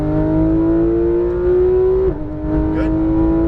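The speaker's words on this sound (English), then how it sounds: "roll on that throttle and accelerate down the straightaway" A Porsche 911 GT3 RS accelerates down a racetrack straightaway, its engine note climbing steadily in pitch, dipping briefly at a gear change, then pulling again, loud and close from inside the car.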